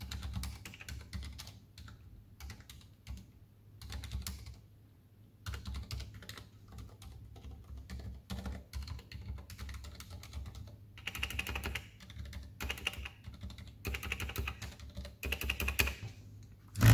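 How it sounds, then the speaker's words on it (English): Typing on a white Ducky One 2 Mini keyboard fitted with MX Silent Red switches, soft muted keystrokes in quick bursts separated by short pauses, close and quiet. "I'll shut up for a minute and type away and you guys can kind of see what the MX Silent Reds sound like on this"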